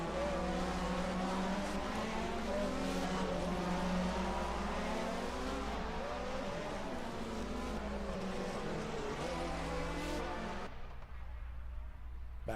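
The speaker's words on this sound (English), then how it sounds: "Late braking from Grant Riddall as he tries to find an advantage" 1980 DRM Division 2 race cars brake and accelerate on the Mainz-Finthen airfield circuit, their engines droning loudly and continuously with rising and falling revs before the sound drops away near the end; no voices are heard.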